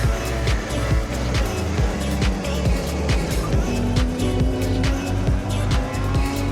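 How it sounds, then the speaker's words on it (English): Racing go-karts roar past on a track, overtaking into a turn, with loud, continuous high-revving engine whine and brief tire squeals throughout. "Another pass, this time overtaking kart 132 with Matias driving."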